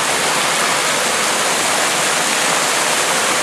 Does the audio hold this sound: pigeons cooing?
no